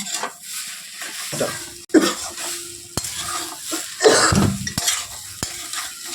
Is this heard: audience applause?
no